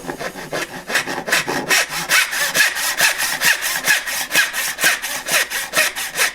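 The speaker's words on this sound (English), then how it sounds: "If you're going to cut a good dovetail right from the saw" Hand saw cutting a wooden dovetail, a steady run of rhythmic rasping strokes, close and loud, each push and pull clearly separated, with no talking.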